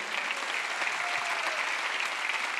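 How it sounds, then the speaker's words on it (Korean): A congregation at a Sunday church service breaks into brief, even applause, a dense wash of many hands clapping together for a couple of seconds with no talk over it. "박수 치라고 박수 쳐요"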